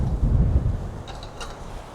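Strong gusts buffet the microphone with deep rumbling wind noise in a cemetery, easing slightly toward the end.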